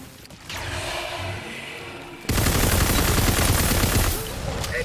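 Gunfire in the video game Tiny Tina's Wonderlands, a sudden loud stream of rapid automatic shots starting midway and rattling on for about two seconds after a quieter lead-in, then easing off.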